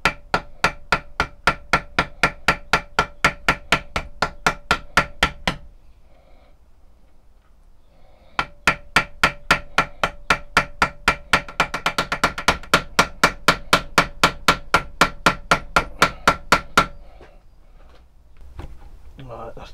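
Hammer taps pinning over the handle of a handmade smatchet, a long run of sharp, evenly spaced metallic strikes, pausing briefly near the middle, then resuming at a steady pace and close range.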